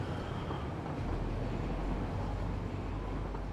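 A passing train in the factory-building game Satisfactory gives a steady, loud rumbling roar that stays even for the whole few seconds, with no voices over it.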